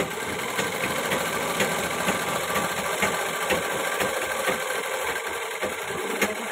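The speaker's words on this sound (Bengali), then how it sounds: "দেখতেই পাচ্ছ আমার সেলাইটা কন্টিনিউ হয়ে যাচ্ছে।" A sewing machine stitches a ghagra skirt in a steady, rapid mechanical chatter of needle strokes, running continuously at moderate volume with a faint high whine above it.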